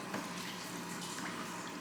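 Water running steadily into a photographic darkroom water bath for rinsing prints, a soft, continuous hiss and trickle heard faintly and alone.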